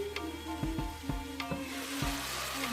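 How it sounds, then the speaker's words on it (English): Bell peppers stirred and simmering in a pan, a constant quiet sizzle broken by a series of short, irregular knocks of a spoon against the pan. "stir everything up together and cover that and let it simmer for like a minute"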